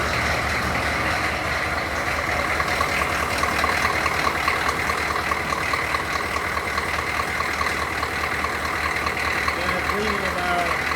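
A heavy diesel military truck engine idles steadily and loudly up close, a constant rumbling clatter with no change in pace.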